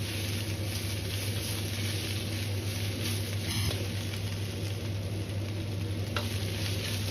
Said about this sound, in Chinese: 翻炒個10秒鐘左右